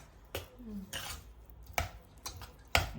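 Orange laddu ingredients with sugar syrup, cardamom powder and colouring are mixed in a bowl, giving a few distinct clinking and scraping knocks at close range with quiet gaps between them.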